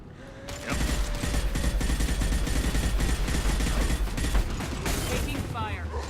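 Sustained, rapid gunfire in a Mass Effect 2 firefight, dense bursts of shots with mechanical clatter running for several seconds, with a voice occasionally heard over the combat.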